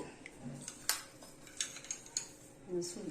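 Coriander seeds roasting in a hot kadai as they are stirred, giving light scattered scrapes and clinks of a spoon against metal, fairly quiet, with faint voices in the background.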